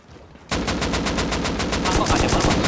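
Rapid automatic gunfire in the game Rust starts suddenly after half a second of quiet and continues as a loud, evenly spaced stream of close shots.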